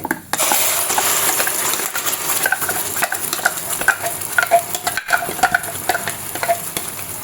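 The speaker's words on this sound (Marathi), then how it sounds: "आपल्याला व्यवस्थित मिक्स करून घ्यायचंय" Ground chutney being stirred into raw mango kadhi in a pot, with a spoon scraping and clinking against the metal in a steady run of close, bright strokes over a soft simmering hiss.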